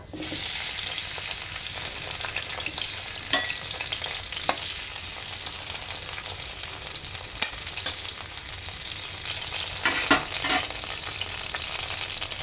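Ten to twelve garlic cloves hit generously oiled hot pan, producing a sudden burst and then a continuous loud, bright sizzle with occasional sharp pops and spatters.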